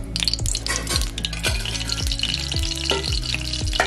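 Hot oil sizzles loudly and steadily in a heated kadhai as chillies go in, with a series of sharp spattering pops and stirring scrapes over a continuous frying hiss, no talking.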